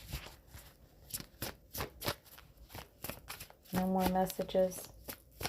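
A deck of cards is shuffled in a quick series of riffling, flicking bursts. A person speaks briefly partway through.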